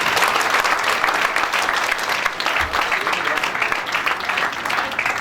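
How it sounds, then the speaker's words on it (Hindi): Loud, dense audience applause at an event honoring wrestlers, sustained and close, a thick continuous roar of clapping with crowd noise mixed in and no pauses. "बिल्कुल जोरदार तालियां।"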